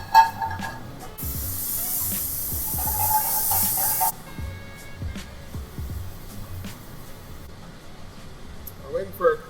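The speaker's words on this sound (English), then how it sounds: "we're going to deglaze with white wine and heavy cream" A pan deglazed with white wine and heavy cream, bursting into a bright, steady hissing sizzle that runs for a few seconds and then abruptly fades, with a person talking nearby before and after.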